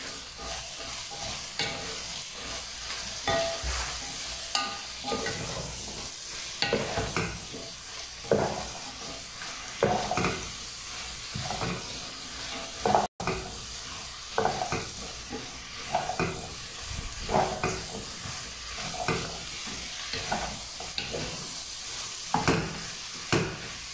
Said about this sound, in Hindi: शलजम को हमने अच्छी तरह भून लिया है।